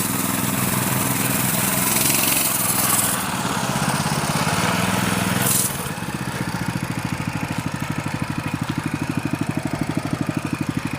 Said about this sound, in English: We're going to run it over with the dirt bike.